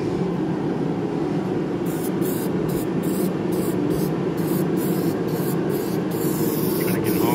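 A spray paint can hisses steadily as black paint is sprayed onto metal chimney parts, a close, continuous spray with faint rhythmic shaking or clicking midway.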